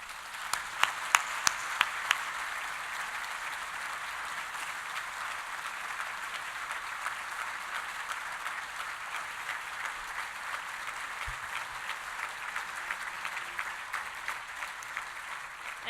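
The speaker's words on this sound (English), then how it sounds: "So could we just give him another round of applause?" Sustained applause from a breakfast audience at a 2019 Greenway keynote, a dense, steady patter of many hands lasting the whole stretch at moderate loudness, with a few sharper claps near the start.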